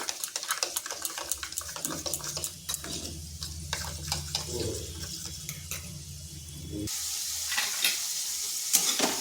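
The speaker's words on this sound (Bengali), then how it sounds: "এদিকে আলুটা হালকা ভাজা হয়ে গেছে" Potatoes frying lightly in a pan for a home-style ridge gourd curry, a steady soft sizzle with intermittent stirring and scraping clicks, shifting to a brighter hiss near the end.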